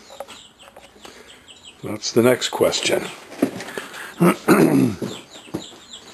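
Chickens cluck and squawk loudly close by in a farmyard while a person speaks over them.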